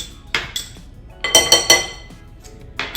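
A spoon squishing and stirring Dijon mustard with garlic in a bowl for homemade Caesar dressing: several sharp, irregular clinks and taps of metal against the dish, close up, with short pauses between.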